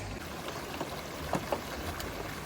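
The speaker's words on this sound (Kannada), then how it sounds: "ಸೌಂಡ್ ಬರ್ಬೇಕಂದ್ರೆ ಮಂತಾ ನೀರು ಹಾಕೋಣ" Water is poured into a pan outdoors during open-air cooking, a faint, steady watery hiss with a couple of small splash accents and no voices.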